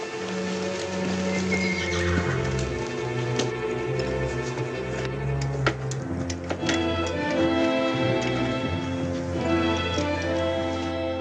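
A horse neighs and whinnies with some hoof clip-clops, heard over a steady bed of orchestral western film music, in an old Durango Kid cowboy movie scene about a horse with a broken shoe.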